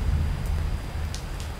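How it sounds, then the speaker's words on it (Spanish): Steady rain effect in the Unity game engine falling over a terrain, a continuous soft hiss with low rumble throughout, no voices. "Como la lluvia que se aplica por todos lados, por todo nuestro terreno"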